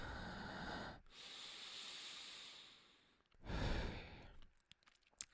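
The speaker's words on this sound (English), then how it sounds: "I need to practice breathing." A person practicing slow, deliberate breathing close to the microphone, two long airy breaths separated by a pause, each loud and drawn out, followed by faint quiet shuffles.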